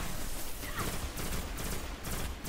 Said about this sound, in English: show off some of the gunplay here and take out this enemy